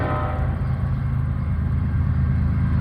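CN freight train M341 at Ladysmith, Wisconsin passing with a big pack of locomotives, a loud, close, continuous diesel rumble and rolling clatter throughout.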